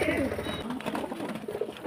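Teddy pigeons coo softly and repeatedly nearby, their low throaty calls mixed with a voice talking over them.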